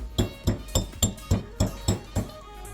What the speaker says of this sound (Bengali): মশলা ঠান্ডা হলেই শিলনোড়াতে গুঁড়ো করে নেবো